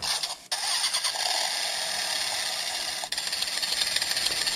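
Standby sound from a Kamen Rider Double DX Accel Driver toy belt, a loud continuous revving, engine-like electronic drone that starts abruptly after a short burst and holds steady with a brief dip partway through.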